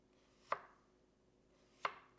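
A convex-grind kitchen knife slices through food in two crisp, isolated cuts about a second apart, each a sharp thunk on the board, in an otherwise quiet room.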